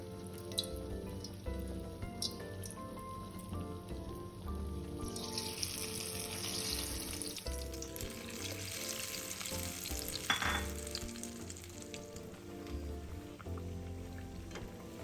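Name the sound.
deep-frying batter-coated nian gao rice cakes in oil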